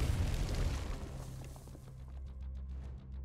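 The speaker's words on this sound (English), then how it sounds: "Grenade out!" A grenade goes off in a video game, a fairly quiet muffled boom that fades into a low rumble with a few faint scattered pops trailing after it.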